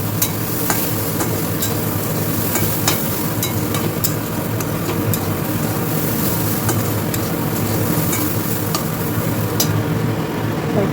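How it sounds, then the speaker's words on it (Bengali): Lentils and radish stir-fry together with a dried red chilli and five-spice tempering, giving a steady, close sizzle with regular scraping stir strokes throughout and no talking. "এই যে মূলো দিয়ে ডাল বানাচ্ছি, ডাল মূলো একসঙ্গে কষিয়ে নিচ্ছি, শুকনো লঙ্কা ফোড়ন দিয়েছি"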